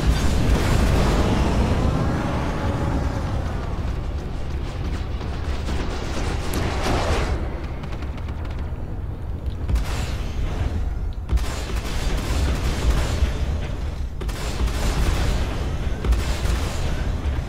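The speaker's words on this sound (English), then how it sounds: "I wonder if there's any penalty for firing all your weapons at once" A spaceship in the game Star Citizen fires all of its weapons at once, making dense, loud, continuous volleys of blasts and booms that last throughout with a few brief dips.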